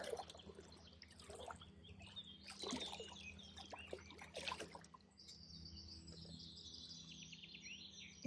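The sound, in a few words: river flowing gently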